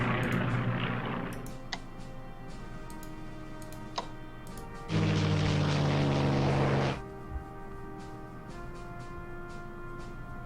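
Aircraft engines in the World War II strategy game Strategic Command, a steady droning hum with soft ticking clicks, swelling into a louder engine roar for about two seconds in the middle.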